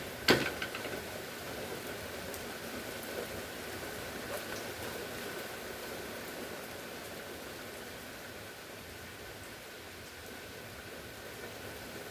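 Rain moving fast through the area, a steady broadband hiss of falling drops that holds throughout, with one sharp click near the start and no talking.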